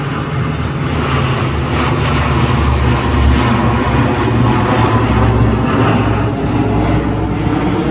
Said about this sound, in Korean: lot of planes flying over our heads.